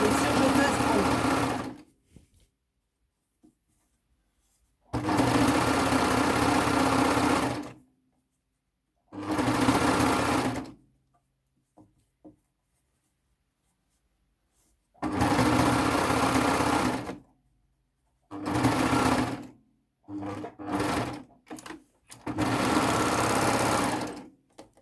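A domestic sewing machine runs an overlock-style stitch while assembling a pair of shorts, humming in several loud bursts of a few seconds each, separated by quiet pauses with faint handling clicks.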